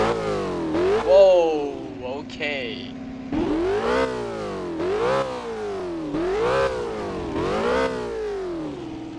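A 350R car engine in the Roblox game Driving Empire revs repeatedly, each loud throttle blip sweeping up and falling back in a regular rhythm, with a brief exclamation from a voice early on.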